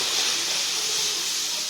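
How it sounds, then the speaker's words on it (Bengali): Milk poured into a pan of fried ginger gives a steady bright hiss and sizzle that runs evenly from start to finish, close and fairly loud, with no voices. "এবার আমি দুধটা দিয়ে দেবো।"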